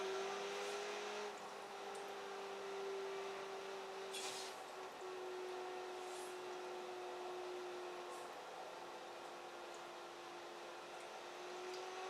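A Ferrari-like car engine in Forza Horizon 4 holds a steady, sustained drone at an even pitch, with a brief rising surge near the middle, loud and continuous with no talking.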